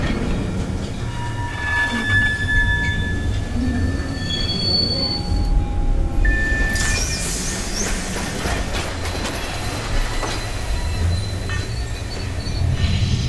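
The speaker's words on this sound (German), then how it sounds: "Die abgestoßenen Zuckerwagen rollen allein aufs entsprechende Gleis." SBB Cargo sugar wagons are shunted at Biel and roll freely onto their track, with loud, sustained wheel squeal, a metallic screech partway through and a steady rolling rumble underneath.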